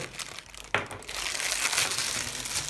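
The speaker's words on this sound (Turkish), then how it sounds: "Neyse poşeti ben de alıyorum" Plastic wrapping crinkles and rustles close up as the bag is pulled off a Razer BlackWidow Chroma keyboard, a sharp crackle followed by steady crumpling that fills the moment, with no voices.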